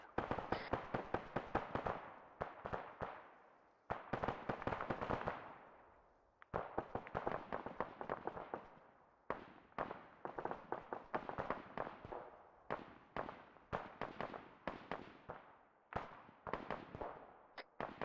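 Rapid bursts of automatic rifle fire from an Arma 3 base of fire crack out in long, loud strings, separated by short pauses, with sharp individual reports echoing close by.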